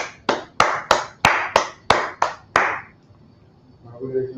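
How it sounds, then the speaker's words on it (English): A small group at a class gathering claps about eight times in a quick, even rhythm, the crisp claps close and loud, then stopping abruptly before quiet murmuring voices start. "Clap it up for the class"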